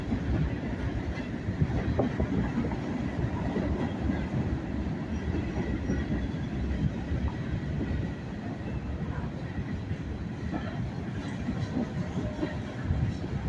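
Two freight trains, a northbound manifest and a southbound local, rumbling through the rail cut under Main Street in Greenwood, South Carolina, a steady low roar with faint rhythmic wheel clatter, heard from some distance.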